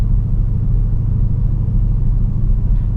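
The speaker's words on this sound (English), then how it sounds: "once you get in and once you start the engine" Deep, steady rumble of a Dodge Challenger SRT Hellcat's big engine just after starting, idling heavy and low with a continuous throb, close and fairly loud.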